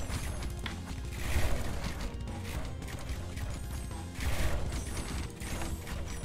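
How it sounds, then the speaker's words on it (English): Coordinated ballista volleys firing in the tower-defense game Rogue Tower, a dense, continuous mechanical clatter of ratcheting and clanking impacts with louder swells at intervals, no talk over it. "these guys are all coordinated again and they're firing"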